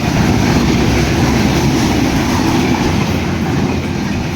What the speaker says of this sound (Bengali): তিলেকপুর রেল স্টেশনে 2 নম্বর লাইন দিয়ে থ্রো পাস করে চলে যাচ্ছে ঢাকা অভিমুখে।